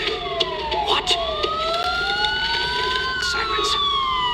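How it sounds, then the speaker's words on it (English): Police sirens wail in the Batman: Arkham Asylum video game, several overlapping rising and falling tones sounding continuously and loudly over a steady background rumble. "Sirens. The police."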